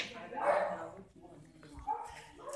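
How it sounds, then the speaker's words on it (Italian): Pitbull puppies yip and whimper close by in short, high-pitched cries, mixed with people talking nearby. "qua ci sono i cucciolotti"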